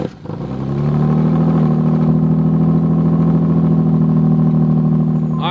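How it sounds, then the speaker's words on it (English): A Nissan 300ZX engine catches after a brief crank on a cold start and settles into a loud, steady idle with a deep exhaust rumble, close by. "This is a cold start, by the way."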